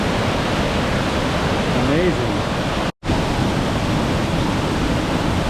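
Small waterfall at Cathedral Falls pours in a steady, broadband rush throughout, with one abrupt momentary dropout midway; someone speaks briefly over the falling water.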